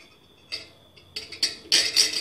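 A spoon stirs a baby's congestion medicine in a small container, giving a few light, scattered metallic clinks and taps that grow denser toward the end, heard close up.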